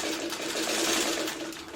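A sewing machine runs steadily, stitching quilt pieces in a stitch-and-flip block, a continuous close hum with rapid needle rhythm and no talking.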